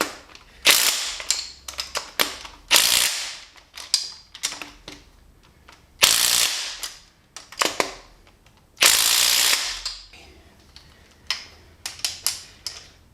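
A ratchet works loose tight cylinder head bolts, torqued to about 85 foot-pounds, on an SRT4 engine being disassembled, with rapid close clicking runs broken by loud sharp cracks as each bolt breaks free.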